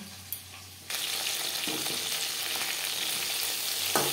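Fish fries in a pan for a mustard fish curry: after a quiet opening, a loud, dense sizzle starts abruptly and holds steady to the end, with a small clink near the close.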